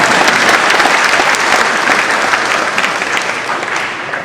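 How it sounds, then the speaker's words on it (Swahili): An audience at a university motivational speech bursts into loud, sustained applause, the clapping dense and close before tapering slightly toward the end. "Kwani mnakwenda kunipigia makofi za gani?"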